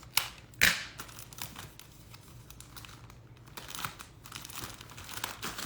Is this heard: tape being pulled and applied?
yes